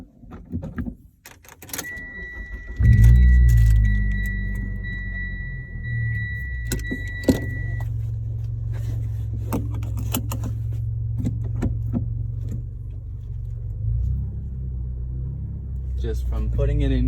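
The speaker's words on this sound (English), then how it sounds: "let's go for a drive" A car driving with a Mishimoto weighted shift knob fitted, a steady low engine rumble throughout with a brief electronic tone early on, scattered clicks and someone talking over it.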